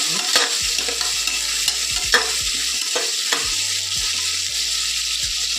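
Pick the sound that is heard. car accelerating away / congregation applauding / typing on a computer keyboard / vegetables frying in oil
vegetables frying in oil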